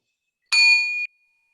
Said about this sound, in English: And I'll ring the bell.